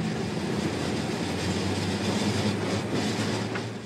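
Railway train running through a drift coal mine tunnel three miles under a mountain, a steady loud rumble with continuous clatter of wagons throughout, no voices.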